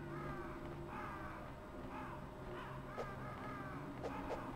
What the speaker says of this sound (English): Why do I hear crows, though?